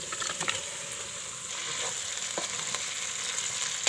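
Mutton frying with spices in a rice cooker, a soft steady sizzle under repeated light stirring and scraping as the meat is turned over.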